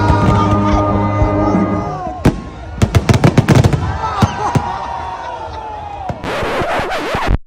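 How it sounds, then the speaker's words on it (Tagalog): Night fireworks burst over Boracay in a rapid cluster of sharp, loud bangs and crackles, with a crowd murmuring throughout and a sizzling crackle near the end. "Tapos biglang may fireworks pa."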